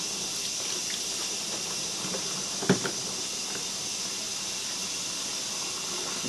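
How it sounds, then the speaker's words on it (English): Hot water runs steadily into a bucket, a constant close hiss and rush with one brief splash partway through. "You want to let that bucket fill up"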